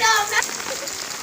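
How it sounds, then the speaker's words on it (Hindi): Rain falls over a village on a cold January day, a brief hiss of drops pattering on surfaces, loud and close, with a faint tonal sound at the start that fades into steady shower noise. "ऊपर बारिश हो रही है"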